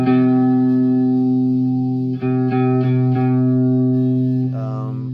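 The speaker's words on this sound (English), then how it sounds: "Here's the pitch modulation." Electric guitar sustained chord through a TC Electronic SCF stereo chorus flanger pedal set to pitch modulation, wavering shimmer with a few re-struck chords, loud and close, no voices.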